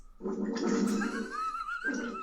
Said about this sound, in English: Here comes a very squelchy fart.